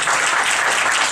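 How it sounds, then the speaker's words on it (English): A room of attendees at a Minnesota legislative update breaks into applause, a short, loud, dense burst of clapping with no talking over it. "Round of applause for Steve on that"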